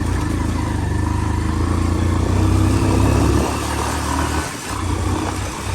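Three motorbikes carrying five riders jolt along a rough mountain road, their engines a loud, continuous close drone that swells and briefly dips near the end.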